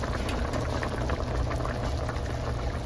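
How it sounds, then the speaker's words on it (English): A pot of fideo mixture boils at a steady rolling bubble, a continuous dense simmering burble with no voices. "The mixture has already came to a boil"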